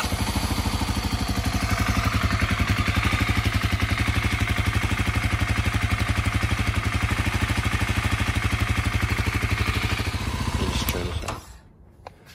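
A 2018-2020 Kawasaki KLX250 dirt bike engine idles steadily after an oil change, a close, even, rhythmic putter that runs for about ten seconds before cutting off.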